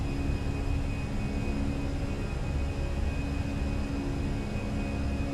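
Fenix A320 jet engines at climb thrust in Microsoft Flight Simulator, a steady, loud broadband roar with faint tonal whine, unbroken and alone throughout.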